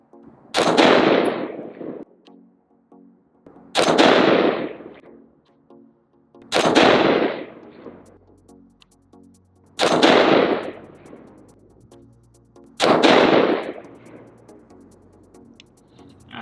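Five loud AR-15 rifle shots fired at a 100-yard target from a precision rest with a factory trigger, each a sharp blast with a ringing decay, spaced about three seconds apart with no talking.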